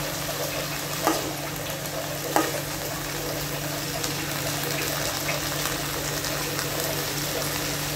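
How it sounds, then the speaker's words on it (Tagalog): String beans sizzle and fry in a pan as a little water is added for simmering, a steady crackling hiss with two brief clattering stirs near the start. "Lagyan natin ng konting tubig. Pampakulo lang."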